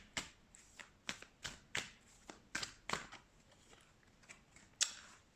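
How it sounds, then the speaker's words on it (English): Repeated crisp riffling snaps of tarot cards being shuffled, about a dozen quick bursts in an uneven rhythm, close and fairly quiet. "Let's shuffle some cards."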